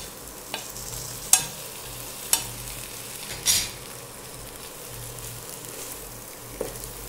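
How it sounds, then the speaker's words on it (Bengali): Potatoes with spices being stirred and fried in a pan while cooking alur dom, with a steady low sizzle and a few sharp utensil scrapes or clinks against the pan. "এবার মশলার সঙ্গে আলুগুলো মিশিয়ে নিয়ে আরেকটু ভালো করে কষিয়ে নিচ্ছি"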